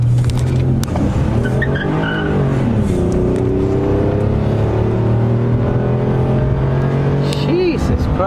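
A V6 car engine revving hard during a road pursuit, pitch climbing and falling between gears with a brief tyre squeal, loud and close, with voices talking over it.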